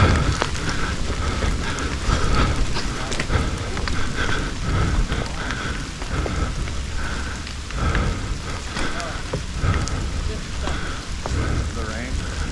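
Steady rain patters over an outdoor riding spot on a wet day where electric unicycle riders such as a Kingsong S22 gather, a continuous close hiss with scattered drop ticks and faint voices now and then underneath.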